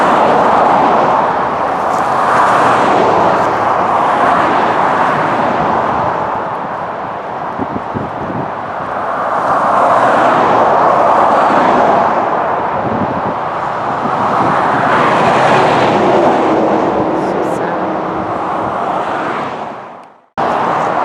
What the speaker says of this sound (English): Sorry about the traffic noise, guys.